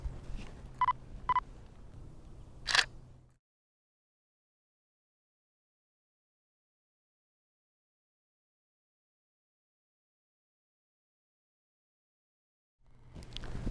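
A camera gives a couple of short focus beeps and a sharp shutter click, then long silence during a slow exposure before the shutter sound returns faintly at the end.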